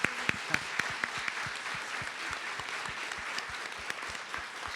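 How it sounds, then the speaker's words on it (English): Audience applause for the presenters at a 3MT/MT180 research presentation competition: a steady wash of many hands clapping, fairly close and even, with a few sharper individual claps standing out. "round of applause to the presenters again"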